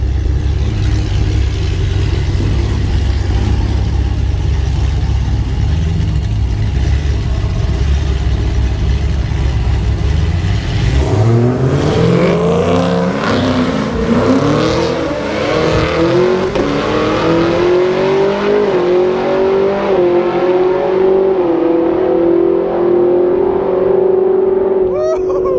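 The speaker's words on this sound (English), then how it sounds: "Nick is in the semifinals right now with the ZL1. And he is racing a vet that's been going over 160" A Chevrolet Camaro ZL1 idles with a deep rumble, then revs hard and accelerates away in a roll race. The engine note climbs steadily and stays loud and close as it pulls through a long run.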